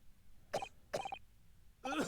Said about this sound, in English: you're fucking coughing up a lung now again